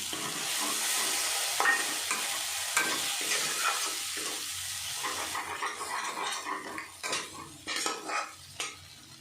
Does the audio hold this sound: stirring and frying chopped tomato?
yes